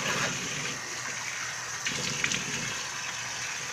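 Steady rush of tap water running while someone washes their face, a constant gushing hiss with small splashes partway through, close and even in level with no talk.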